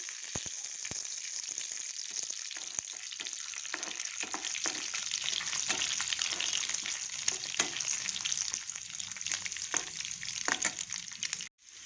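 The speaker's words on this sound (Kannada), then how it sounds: "ನೋಡಿ, ತುಪ್ಪ ಕಾದಿದೆ. ದ್ರಾಕ್ಷಿ, ಗೋಡಂಬಿ, ಬಾದಾಮಿ ಹಾಕ್ತಾಯಿದ್ದೀನಿ ಕಟ್ ಮಾಡಿಬಿಟ್ಟು. ಇದು ಸ್ವಲ್ಪ ಫ್ರೈ ಆಗಿ" Chopped raisins, cashews and almonds fry in hot ghee with a steady, close bright sizzle that stays loud throughout, broken by occasional soft stirring clicks and scrapes, then cuts off abruptly at the end, with no talk.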